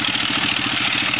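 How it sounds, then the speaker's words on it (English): A tractor engine runs during a race toward a finish line, giving a loud, close, steady drone with a regular low chugging pulse throughout and no voices. "And here comes the tractor."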